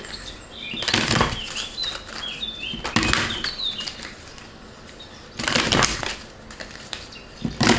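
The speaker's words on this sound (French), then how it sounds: "J'ai fermé les volets, mais les oiseaux, j'habite dans un endroit où il y a beaucoup d'arbres." Birds flap and rustle outdoors among many trees, with several bursts of wing-beats and scuffling, near and fairly loud, and faint chirps in between, with no one speaking.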